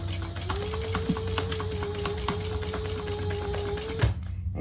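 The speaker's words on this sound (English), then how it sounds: "So we are going to turn it right side up, turn that side back, and sew down the" A sewing machine stitches down the sides of a fabric hip bag with a steady rapid mechanical chatter and hum, close and moderately loud, stopping abruptly near the end.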